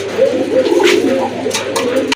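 Pigeons coo in a low, continuous murmur at a pigeon sale, with brief higher bird calls breaking through near the end.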